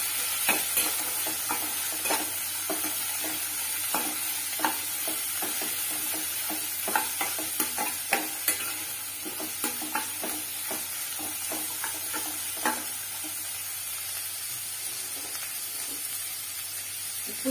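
Onions, one cup, stirred while frying in a pan for an egg stir-fry, giving a steady sizzle with repeated scraping clicks of the stirring spoon, close and clear with no talk.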